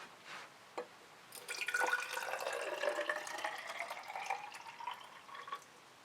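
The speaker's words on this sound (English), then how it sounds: "when we put some water in there and give it a little bit of time" Water poured into a container from a science kit, a steady close trickle and splash that builds after a couple of faint drips and runs on for several seconds with no talking.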